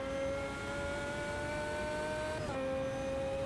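A 2005 GT1 class Lamborghini race car in the Automobilista 2 sim holds a steady high engine drone, shifting pitch briefly near the end, heard faint and alone.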